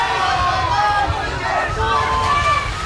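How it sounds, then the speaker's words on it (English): A crowd at an outdoor cycle speedway race roars and shouts with mixed, overlapping voices, a busy, steady hubbub heard from a middle distance. "And listen to the crowd."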